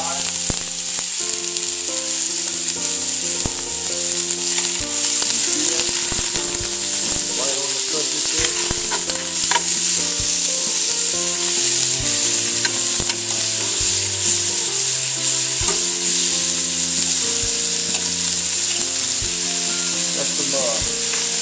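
Butter sizzles loudly and steadily in a pan with oil over medium-high heat while cooking crawfish étouffée, a continuous hiss running through the whole stretch beneath music with melodic backing.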